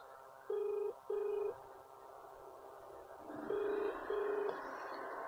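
Electronic telephone dialing tones sound while a number is being called, a steady hum underneath. There are two pairs of evenly spaced tone bursts, one pair early and one pair a few seconds later.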